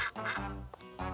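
Cartoon ducks quacking in a French animated series, several nasal quacks in quick succession, close and clear.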